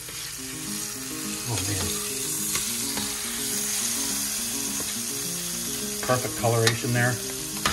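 Pork tenderloin saltimbocca sizzles steadily in a pan as it is flipped, with a constant frying hiss, some clicks and scrapes near the end, and someone talking briefly over it.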